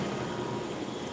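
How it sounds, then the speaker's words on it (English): A scroll pump pulling vacuum on the chamber of a MALDI instrument gives a steady, even broadband roar that stays constant throughout, with no voices. "So that was the sound of a scroll pump pulling the vacuum"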